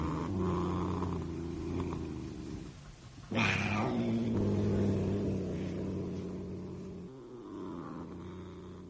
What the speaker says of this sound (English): the gentle, oh, so comforting purr of her sleek, fat cat, Saladin.